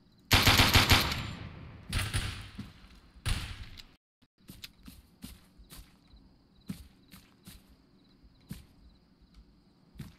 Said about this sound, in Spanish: Vale, me dispara desde el monte